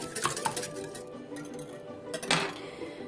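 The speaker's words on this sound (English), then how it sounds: "the butter as well. Make sure it's nice and whisked in." Butter whisked into a milk mixture in a bowl for yeast rolls, with close metallic clinks and scraping of the whisk against the bowl in short uneven bursts.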